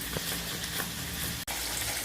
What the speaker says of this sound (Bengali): এই মাছগুলো এবার ভাজা হয়ে গেছে